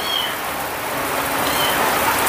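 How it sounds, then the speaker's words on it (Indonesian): Heavy rain pours down steadily, a dense, even hiss of falling water that stays loud from start to finish with no voices. "Hujannya lumayan cukup deras teman-teman tuh"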